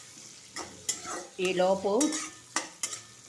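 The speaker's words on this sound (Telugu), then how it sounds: "ఇక పోపు బాగా వేగనిస్తాను ఇలాగా" Whole spices and two dried red chillies tempering in hot oil for Andhra pappu pulusu, with a soft steady sizzle and a few scraping stirs, while someone talks briefly over the cooking.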